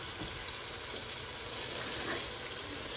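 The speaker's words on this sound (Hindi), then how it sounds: "प्राउंस में थोड़ा पानी छोड़ दिया है" Water is poured into prawns cooking in a covered pan for prawn biryani with potato, making a soft, steady, continuous hiss that stays fairly faint and even, with no talk.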